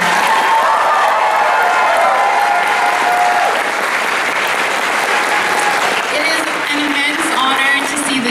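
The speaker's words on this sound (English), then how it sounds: "please give a big round of applause to Mamas." Audience applause for Mamas for Mamas at the Otafest 2024 closing ceremony, loud sustained clapping from a large crowd with scattered cheers and voices mixed in, easing slightly toward the end.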